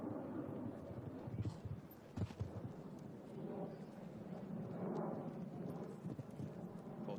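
Hooves thud on turf during a show jumping round at the Longines Grand Prix of Hamburg, an experienced Derby horse working around the course in muffled, irregular beats under a low background rumble.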